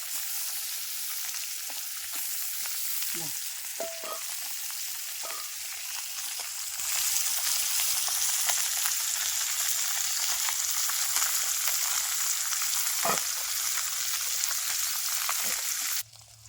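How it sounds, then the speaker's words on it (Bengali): Khalsa fish frying in a pan of oil, a steady close sizzle throughout that grows slightly louder midway, with a few soft utensil clinks and no talk. "খলসা মাছ তো ভাজা হয়ে গেছে আমি তুলে নেব"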